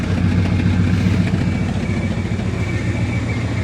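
Smoking, rough-running engine of a 1966 Ford Country Sedan idles in a loud, steady low rumble, recorded close with no one speaking.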